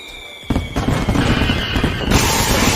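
Fireworks explode with a sudden loud blast, followed by a dense, crackling rumble that keeps going and then swells again near the end, with no voices.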